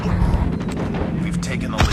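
Gunfire in a shooter video game, dense booming shots and rumbling blasts filling two seconds, loud and close, with some voice mixed in.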